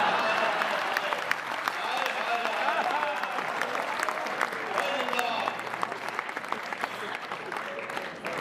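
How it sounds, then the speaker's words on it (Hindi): Steady audience applause at a Hindi comic poetry recital fills the whole stretch, dense clapping from a sizable crowd with some voices mixed in. "जंग के लिए तालियां थोड़ी कम है, चुटकुलों पे ज्यादा बज रही है"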